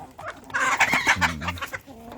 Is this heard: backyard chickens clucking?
yes